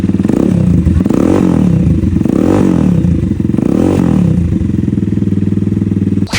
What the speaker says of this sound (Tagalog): pinaandar lang natin yung motor para mag vibrate para matanggal yung mga ibang nakadikit